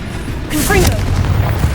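A Confringo spell blast in Hogwarts Legacy booms out loud and close, a single fiery explosive burst with crackling tail over ongoing game noise, with a voice heard calling the spell.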